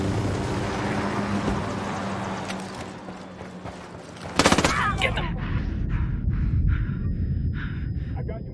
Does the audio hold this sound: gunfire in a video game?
yes